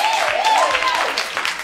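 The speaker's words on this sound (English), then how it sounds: "a nice big round of applause for the fabulous" An audience applauds a performer named Frankie at a pub show, a short burst of dense clapping that stays loud and steady throughout, with a tonal voice or music line faintly running beneath it.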